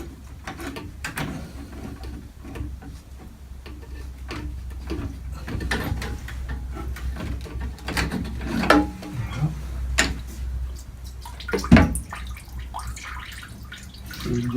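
Coolant draining out of a Peugeot 205 GTI radiator during engine removal, a steady watery trickle with scattered drips and clanks from nearby handling, moderately close and fairly quiet.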